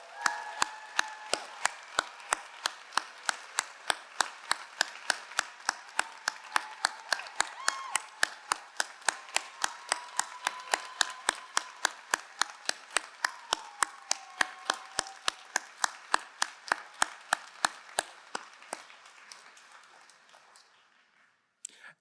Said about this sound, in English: Let's have a round of applause for the class of